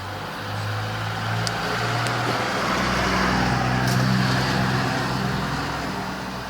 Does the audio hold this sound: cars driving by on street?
yes